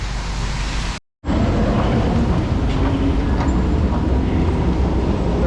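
A metro train in a station on a rainy day, a loud continuous rumble of rolling wagons and rail noise that fills the space after a brief silent gap, close and steady with no talk.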